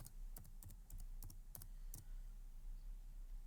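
A computer keyboard is typed on in short bursts of quick clicks while entering a COUNTIF formula in Excel, close and quiet over a steady low hum, stopping in the final second and a half.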